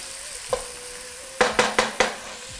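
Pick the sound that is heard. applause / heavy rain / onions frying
onions frying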